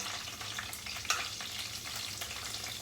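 Herbs frying in oil for a Pomodoro sauce, a steady close sizzle and crackle with a few sharper pops, no voices.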